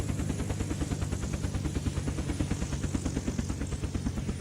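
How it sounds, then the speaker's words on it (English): Helicopter in the video game Unturned coming down to land, a loud, fast, steady rotor chop pulsing evenly throughout, with no voices. "I want to land where it's going to be safe for my helicopter."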